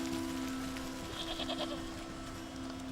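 A short, faint bleating goat cry from a goat fountain in the video game Wytchwood, mid-clip over a steady electronic hum and game background noise, no talking.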